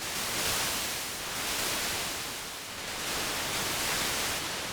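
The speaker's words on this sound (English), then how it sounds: "you also have white noise." White noise from the oscillator of a Kawai K3 vintage hybrid synthesizer, a steady broadband hiss that swells and dips slightly in level, heard alone at moderate volume.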